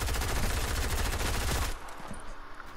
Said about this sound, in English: somebody sniped me already.